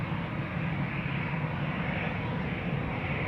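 An airliner throttles up for departure at Amsterdam Schiphol Airport, a steady loud roar of engine noise heard from nearby without voices.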